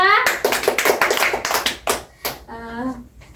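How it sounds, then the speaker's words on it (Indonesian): A classroom of children claps in a short rhythmic pattern for group 2, crisp near claps in quick bursts, with voices calling out between and after them. "beri tepuk tangan untuk kelompok 2"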